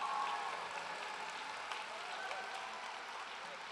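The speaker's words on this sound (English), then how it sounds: "Let's give them a round of applause." Crowd applause at the Women's Persistence March, a broad steady wash of clapping from many people outdoors, moderately loud and sustained throughout.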